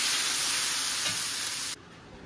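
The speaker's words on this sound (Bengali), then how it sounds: "এখন শুধু কষার পালা" Mutton masala being stir-fried with mutton stock for a Bengali mutton dish, a dense close hiss of sizzling that cuts off abruptly near the end and leaves a faint background.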